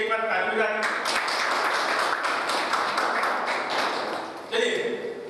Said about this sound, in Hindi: इनके लिए एक बार ताली बजाएं